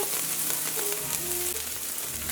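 Grated garlic stirred in a hot Cosori multicooker pot gives a steady, close sizzle with soft scraping from the mixing, and nobody speaks.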